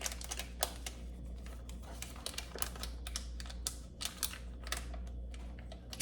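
Half a stick of butter peeled from its paper wrapper for low-carb pecan pie bars, a steady run of close, dry crinkling and tearing ticks lasting throughout over a low hum.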